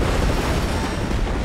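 An explosion in LEGO Marvel Super Heroes, a loud, sustained roaring rumble of broadband noise with no clear onset or decay.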